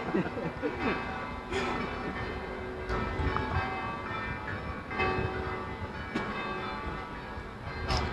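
Church bells ring faintly in the distance with a few spaced strikes, under steady background noise and some talking.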